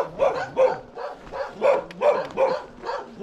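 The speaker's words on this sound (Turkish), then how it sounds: "Dün akşam bana havlayan arkadaşlar sabah da havlıyor." Dogs bark repeatedly along the Lycian Way hiking trail in Turkey, a steady run of moderately distant barks and yips in a quick, even rhythm with no talking.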